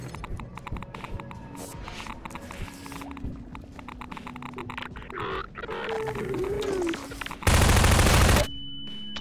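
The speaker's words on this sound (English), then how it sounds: "I'm just letting them keep shooting." Enemies fire guns in Half-Life 2 in a string of quick, scattered shots at moderate distance. Near the end a loud hissing burst covers everything.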